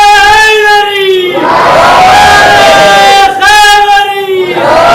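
At a Shia majlis gathering, a single loud voice calls out a drawn-out religious slogan, and a large crowd roars back in unison. The call and response repeats twice, and the crowd's shout is loud and full.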